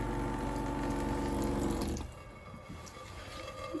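Water running from a small garden drainage setup, a steady close pouring and trickling that cuts off halfway, leaving quieter scattered drips and gurgles.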